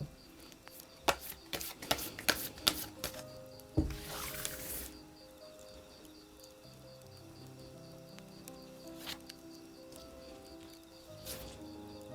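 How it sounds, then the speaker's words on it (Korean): Tarot cards shuffled in a quiet room, a burst of quick riffling clicks and a soft ruffle up front, then sparse faint taps over low background music. "그럼 카드 섞어 볼게요."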